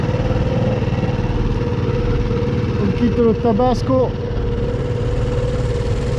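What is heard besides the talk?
small boat motor running at full throttle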